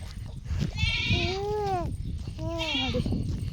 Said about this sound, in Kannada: ಬಂದ ತಕ್ಷಣ ಮೇಕೆ ಕೋಳಿ ಎಲ್ಲ ಸೌಂಡ್ ಮಾಡೋಕ್ಕೆ ಸ್ಟಾರ್ಟ್ ಮಾಡ್ತವೆ